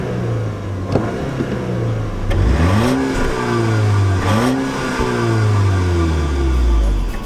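A 252-horsepower 2-liter turbocharged Audi Allroad engine revs up twice in quick succession, pitch climbing and falling each time, then holds a rising drone, loud and close with no talking.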